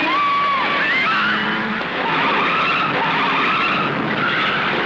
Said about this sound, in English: During the GT heydays, there were some spectacular crashes at Bathurst, including this horrifying flip at Skyline.